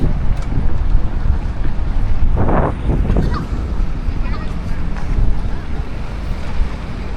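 Outdoors in Stockholm, wind buffets the microphone with a loud, continuous low roar and rumble that lasts the whole stretch.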